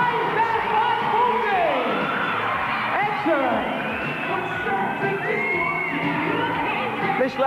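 A packed indoor arena of about a thousand spectators roars and whoops continuously through a 1987 BMX freestyle final, loud sustained cheering and yelling with scattered shouts rising above the crowd noise.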